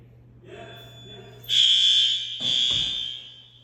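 Elementary school fire alarm sounding during a test, a loud continuous electronic tone that starts abruptly partway through, with a brief dropout before resuming over a low hum.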